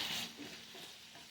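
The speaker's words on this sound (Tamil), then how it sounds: "இந்த ஃபயர் வந்து நல்லா ஹை ஃப்ளேமில் வச்சுட்டு நம்ம உருளைக்கிழங்கை நல்லா ரோஸ்ட் பண்ணி எடுக்க போகிறோம்" Potatoes roasting in a pan on high flame, a faint, short sizzle with a soft stirring scrape.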